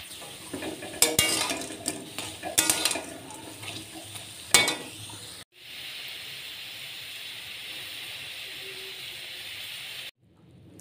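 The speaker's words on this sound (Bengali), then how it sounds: "এই যে পেঁয়াজ কলি দিয়ে চালের গুঁড়ি দিয়ে বড়া করছি" Onion-stalk fritters made with rice flour fry in a home kitchen. Stirring and clattering utensils come first, then a steady, even sizzle of oil that carries on alone for several seconds before cutting off.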